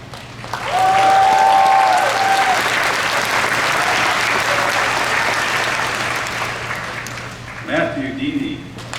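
Steady, loud audience applause fills a university commencement ceremony as PharmD valedictorians stand, sustained for several seconds, with a voice briefly calling names over it near the end.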